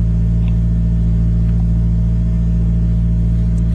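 Red 1994 Ford Probe with a 2.0 engine and automatic transmission idling after a cold start, a loud, steady, close-up low hum that holds constant throughout.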